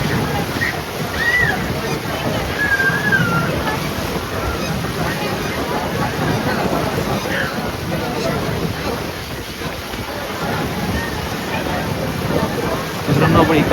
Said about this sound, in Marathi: पण वारा पण एवढा खतरनाक आहे